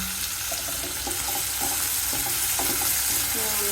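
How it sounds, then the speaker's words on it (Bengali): Onions frying in oil in a pan, a steady, dense hiss of sizzling throughout with a few light scraping stirs, close and constant, no talk. "পেঁয়াজটা লাল লাল করে ভেজে নেব"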